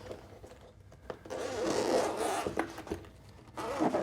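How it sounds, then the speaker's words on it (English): The zipper on the firm, hard case of Mixcder E9 wireless headphones is pulled open: a close, rasping zip in several uneven strokes with short pauses between them. "Let's go ahead and unzip this."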